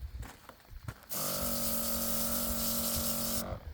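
Water sprayed in a steady shower over radish leaves infested with flea beetles, starting abruptly after a second of quiet rustling, hissing loud and continuous for over two seconds, then cutting off.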